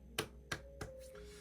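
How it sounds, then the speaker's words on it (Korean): One person indoors gives three sharp, close hand claps spaced about a third of a second apart, quiet overall and alone in a still room. "박수."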